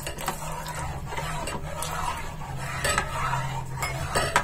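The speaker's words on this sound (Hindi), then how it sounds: "अब हम इसमें कॉर्न स्टार्च का जो मिक्सचर हमने बनाकर रखे थे वो ऐड करेंगे और सरिका हिलाते हुए हम मिक्स करेंगे इसमें।" Cornstarch mixture is stirred into rabri in a pan over a medium gas flame, a spoon scraping and clinking against the metal in steady repeated strokes, close up over a constant low hum, with no talk.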